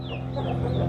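Chickens cluck near a coop in a barn, a few soft rising and falling calls over a steady low background, fairly close but quiet.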